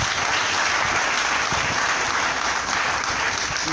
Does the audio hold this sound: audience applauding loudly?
yes